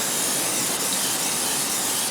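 Fluid Film aerosol sprayed onto the rear wheel hub of a Ford Fusion during a wheel bearing job, a steady, loud continuous hiss lasting the whole moment without a break.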